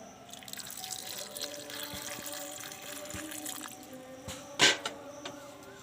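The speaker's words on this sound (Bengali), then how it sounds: "আমি ঠান্ডা করার জন্য ঠান্ডা জল দিয়ে দিচ্ছি" Cold water trickles and drips over freshly boiled, very hot jackfruit seeds, a steady quiet running stream with a sharper splash near the end.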